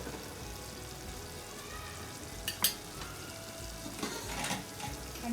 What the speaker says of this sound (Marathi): मसाला तेलात चांगला भाजला की मग हे वाटण टाकते